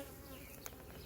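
Honey bees swarming and clustering together give off a faint, steady insect buzz, with one brief brighter buzz in the middle of a short stretch.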